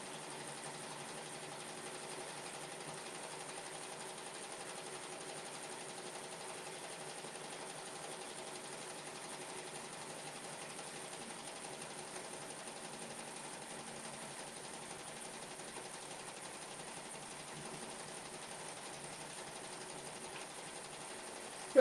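An embroidery machine sews satin stitches for bookmarks. It gives a steady, even whir with a constant hum that runs unbroken at moderate level, with no talk over it.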